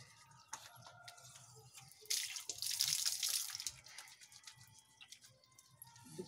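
Water runs from a tap during a handwashing demonstration, with a soft gurgling trickle rising to a louder splashing gush for about two seconds midway before easing back. Faint clicks and rustles surround it.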